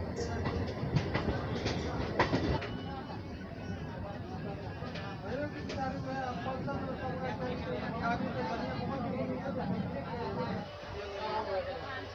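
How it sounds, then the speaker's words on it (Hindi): A passenger train on the Jaynagar to Janakpur route from India into Nepal rumbles steadily along the tracks as it rounds a curve, heard from inside with continuous wheel noise and faint squeals, and a voice talking over it. "ये आप देख सकते हैं हमारी ट्रेन शानदार कर्व लेते हुए।"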